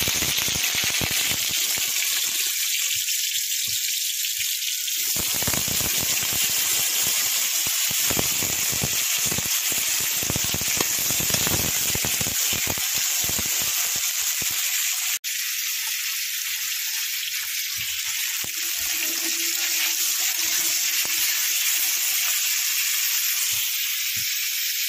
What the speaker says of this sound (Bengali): এবারে আলুগুলো ভেজে নিই লাল লাল করে।